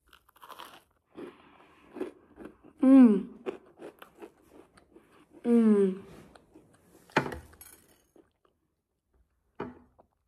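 Crunchy homemade Christmas cookies with sprinkles being bitten and chewed close up, two loud crisp bites followed by softer crunching chews and small clicks in an otherwise quiet room.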